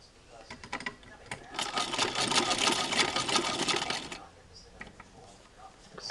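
A Singer 15-88 sewing machine with a zigzagger attachment stitches a baby jacket sleeve, its rapid mechanical clatter building for a few seconds and then stopping, with quieter handling noises before and after.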